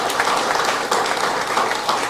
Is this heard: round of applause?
yes